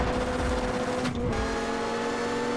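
Rally car engine revving hard with wheels spinning at a launch off the line on a super special stage in Poland, Richard Burns Rally; a steady, loud engine roar that continues throughout.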